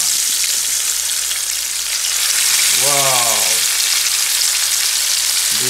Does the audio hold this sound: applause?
no